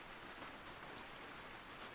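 Steady, soothing rain falls alone, a soft even wash of drops on a surface with no voices, holding a constant low level throughout.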